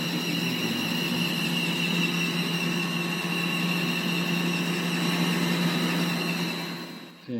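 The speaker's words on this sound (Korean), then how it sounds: "벨트 좀 미끄러지는 소리 좀 들리죠?" A worn V-belt with too little tension slips on an industrial blower. It gives a continuous shrill whine layered over a steady mechanical drone, close and constant, fading slightly at the very end.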